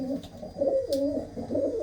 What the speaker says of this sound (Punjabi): ਇਹ ਦੇਖੋ ਕਿੰਨੇ ਕਿੰਨੇ ਸੋਹਣੇ ਲਾਲ ਚੀਨੇ ਕਬੂਤਰ ਆ